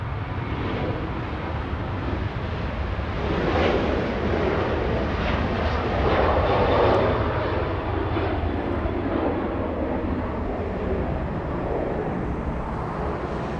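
Airliner jet engines at Los Angeles International Airport, with Cathay Pacific and Philippine Airlines jets nearby, make a steady broadband roar that swells slightly in the middle and stays constant throughout, heard from a moderate distance.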